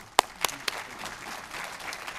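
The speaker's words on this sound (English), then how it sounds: "With a round of applause, can you help me join and welcome in Glenice Robinson?" Audience applause welcoming a speaker at a Fort Worth MLK Jr. celebration, starting with a few sharp claps that settle into a steady, moderate round of clapping from the crowd.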